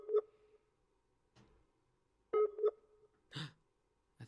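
A Skype call ringing tone: short electronic beeps in small clusters separated by pauses, fairly quiet and clear with no talking.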